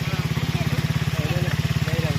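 A motorcycle engine idling steadily just after starting, with a loud, regular low thumping pulse close by while people talk faintly over it.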